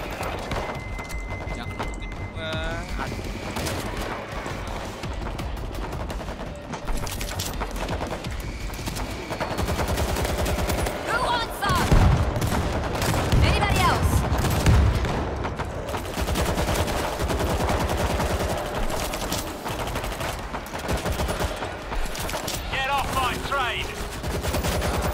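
Rapid gunfire fills a World War Z zombie shooter scene in New York, dense bursts of automatic fire and scattered shots layered over a constant game soundscape, with voices shouting intermittently.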